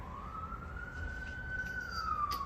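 A police siren wails in a slow rising and falling tone during Black Lives Matter protests in the United States, somewhat distant, over low traffic rumble.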